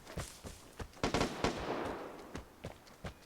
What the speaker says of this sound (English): Now, why did he fire just now?